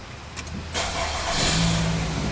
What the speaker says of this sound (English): I'm just gonna start the vehicle up.